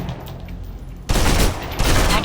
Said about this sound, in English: Still using cover, take some shots at the target